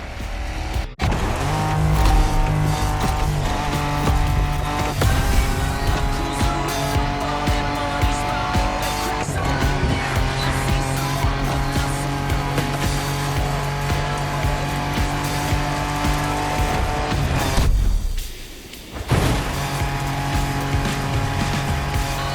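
Off-road racing in The Crew Motorfest video game on PS5, with a loud continuous car engine revving and shifting, tires squealing and skidding, and a brief dip in the noise near the end, without voices.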